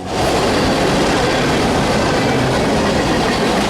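A long intermodal freight train, over a mile in length with mid-train DPUs, rolls past through Franklin, making a loud, steady rumble and clatter of wagons that fills the whole stretch with no voices.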